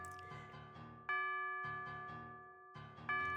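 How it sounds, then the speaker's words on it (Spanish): A living-room wall clock strikes, its resonant bell-like chimes ringing out one after another, each tone sustaining and decaying before the next, with a soft musical backing underneath. "el reloj de pared de la sala dejó escapar 12 campanadas"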